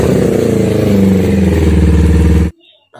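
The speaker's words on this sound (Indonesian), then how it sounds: "Kita coba hidupin motor." A Kawasaki Ninja four-stroke motorcycle with an overheating engine runs loudly and close, a steady throbbing rumble that cuts off abruptly near the end, followed by near silence.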